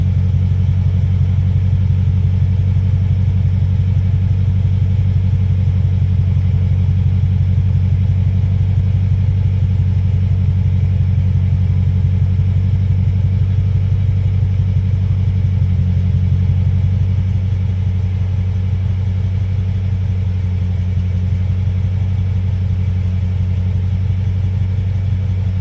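A 2016 Dodge Charger R/T fitted with Borla Pro XS mufflers idles with a deep, steady exhaust rumble, loud and close, holding constant for nearly half a minute with no talk.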